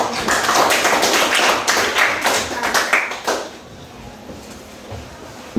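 A classroom of students clapping hands together for a group presentation, brisk crisp claps close by, tapering off after about three seconds into quiet room noise.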